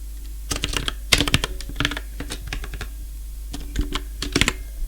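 Keys clatter on a computer keyboard in uneven bursts of quick clicks with short pauses between, close and clear over a low steady hum, with no voices.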